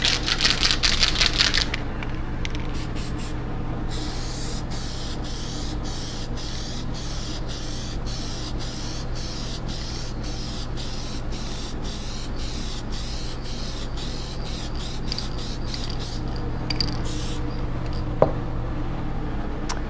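Plasti Dip glossifier sprays steadily from an aerosol can over a carbon-fiber-look dipped finish, a continuous close hiss lasting many seconds with a brief louder burst at the start.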